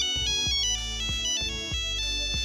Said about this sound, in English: Remember the Nokia memorable message ringtone?